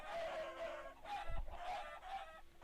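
Several chickens cluck in Minecraft, short repeated bird calls coming in bursts with a low thump partway through, fairly quiet and with no talking.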